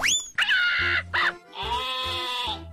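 Sheep bleating in a video game animal battle, several short wavering bleats in quick succession, close and clear with no talking over them.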